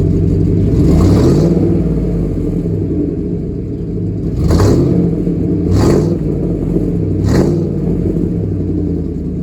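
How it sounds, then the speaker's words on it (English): Deep rumbling idle of a 2004-2008 Ford F150 engine through a stainless steel WWP dual exhaust, close and loud, with about four sharp revs that rise and fall over the steady burble. "Let me put it down and let you hear some exhaust clips."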